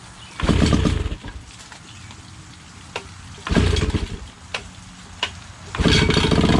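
A cold 1992 Johnson 25 hp outboard engine is pull-started, giving three loud, close bursts of rough sputtering separated by quieter stretches with a few sharp clicks.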